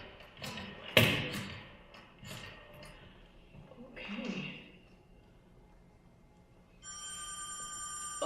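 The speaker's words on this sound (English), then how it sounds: "Ringing the police department." A telephone bell rings in a radio drama staged by a talking radio orchestra, a bright rapid trill that starts near the end after a stretch of voices, thumps and a slam.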